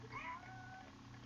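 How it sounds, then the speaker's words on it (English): A cat gives a single short, rising meow close up and quiet, followed by a soft trailing tail of the call over a low background hum. "Hey, kitty."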